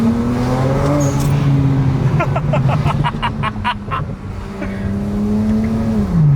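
A BMW N54 engine with aftermarket charge pipe, intake and blow-off valve drones and revs up close, driven in manual, with a rapid series of sharp exhaust pops and crackles in the middle before the engine note climbs again.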